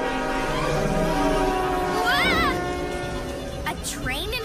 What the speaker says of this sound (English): A train in her Luna beam?